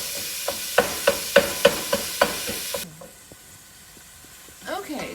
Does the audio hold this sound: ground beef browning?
yes